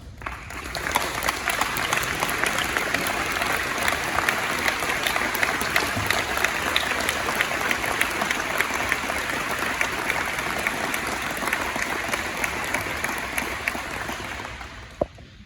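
A large crowd at a university tennis complex ribbon-cutting ceremony applauds donors and contributors in a steady, dense round of clapping that holds loud and even for about fifteen seconds before stopping abruptly.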